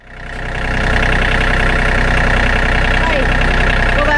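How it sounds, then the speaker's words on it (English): A tractor engine runs steadily at idle on a farm during animal care, rising from a start and then holding a loud, even low rumble throughout. "I'm gonna go start the tractor."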